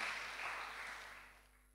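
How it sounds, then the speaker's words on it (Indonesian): Applause from a congregation at an evening prayer service in a GBI church, heard as a broad, even crowd clap that is loud at first and then gradually fades out. "Tepuk tangan bagi dia,"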